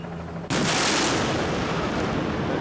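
Explosions from a demolition of a steel-framed building play back as one sudden loud blast that gives way to a sustained roaring rumble filling the rest of the moment, with no voices.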